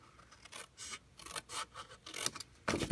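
Paper is cut with scissors in a series of quick, close snips, roughly a dozen crisp bursts in a rapid irregular rhythm, with no talk.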